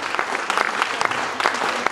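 Audience applause at a village concert in Lozevo, a dense wash of many hands clapping steadily and fairly close, filling the whole short stretch without pause.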